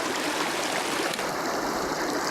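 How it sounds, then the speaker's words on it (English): Creek flowing over sandstone rocks along a mountain trail, a steady close rushing burble of water, fairly soft and with no talk. "You're walking along the creek most of the way till you get to the top of the mountain."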